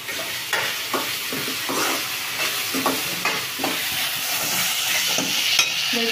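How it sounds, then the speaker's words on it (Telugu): Ginger paste frying and being stirred in a pan for a dhaba-style farm chicken curry, a steady sizzle broken by repeated scraping strokes of the spoon, close and fairly loud with no talking. "అల్లం పేస్ట్ వేసుకుందాం అల్లం పేస్ట్ వేసుకున్నానండి"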